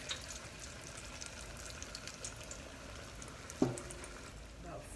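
Apple fritters frying in hot oil give a steady, soft sizzle and bubbling hiss, broken near the end by a single louder clink or splash as they are handled.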